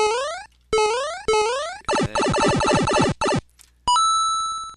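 Short, bright electronic Super Mario-style chimes and blips from a Kodi interface sound pack, a quick series of rising tones and trills separated by brief silences.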